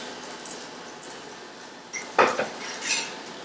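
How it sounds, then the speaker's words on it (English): Parsnips being fished out of a cooking pot with a metal utensil: faint scraping, then a few sharp metallic clinks and knocks against the pot, close by, with no talking. "we want to just fish out our parsnips and see if they're soft."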